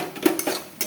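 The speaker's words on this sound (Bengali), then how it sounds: "মশলাটাকে ভালো করে কষাবো" A utensil clinks and scrapes briefly against a pan while spice paste is stirred and fried, giving a few quick, close metallic taps.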